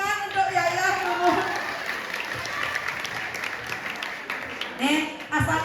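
An audience at a live Balinese comedy show breaks into scattered applause, clapping and cheering in bursts while performers talk over it.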